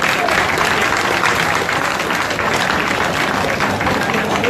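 A large crowd applauds loudly and continuously, a dense, even wash of clapping with no letup.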